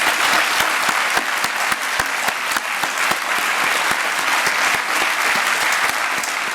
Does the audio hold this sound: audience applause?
yes